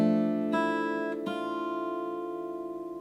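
Acoustic guitar fingerpicking an arrangement of a song, a few plucked chords ringing out close and clear, with two fresh attacks before the notes decay slowly.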